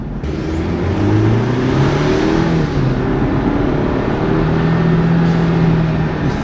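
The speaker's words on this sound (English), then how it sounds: "Oh my god, you can hear the turbo," A 2023 Chevy Colorado LT pickup fitted with a turbo blow-off valve drives under steady load, with a loud, continuous engine and road roar and a rising turbo whistle and whine.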